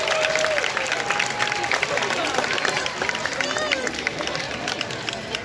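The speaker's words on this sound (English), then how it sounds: "let's have a big round of applause for our keepers and the pinnipeds as they join us on" Zoo audience applauding keepers and sea lions arriving on stage at Como Zoo in St Paul, Minnesota: steady dense clapping with crowd murmur and scattered cheers throughout, fairly loud and sustained.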